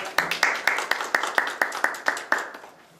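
Applause from a small group at a public debate forum, with about a dozen sharp, evenly spaced claps that slow slightly before fading out.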